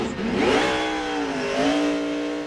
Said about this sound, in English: Carl Wagner spec motor in that car